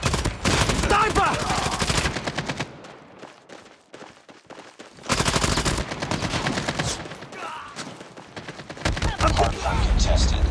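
Automatic gunfire in the mobile shooter Call of Duty Mobile, played in a hardpoint match. Loud, rapid bursts come in two long volleys separated by a quieter stretch of scattered shots, then a final heavy burst.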